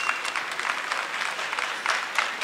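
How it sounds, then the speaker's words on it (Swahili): A seated audience at a youth development address by Tanzania's Prime Minister breaks into sustained applause, a dense, steady clapping from many hands at moderate distance. "Hongera sana, jipigieni makofi wote."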